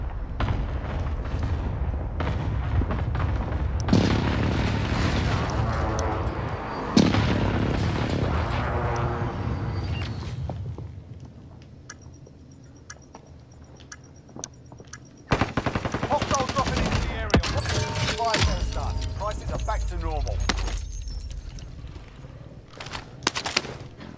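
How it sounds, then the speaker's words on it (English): Precision airstrike explosions rumble through a Call of Duty: Modern Warfare match, buried in dense, continuous machine-gun fire and heavy booms that briefly thin out before another loud burst of shooting. "Enemy precision airstrike. Take cover."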